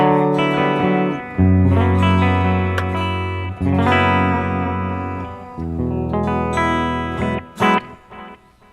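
Sustained notes and chords from a Kramer Baretta Special electric guitar ring out with a wash of reverb and trailing delay echoes, played alone with no voices.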